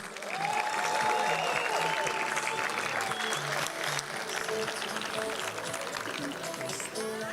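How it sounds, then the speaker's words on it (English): Audience applause at a high school capping ceremony, a sustained burst of clapping from a large crowd that holds steady, with a voice speaking over it. "one more round of applause for these gentlemen"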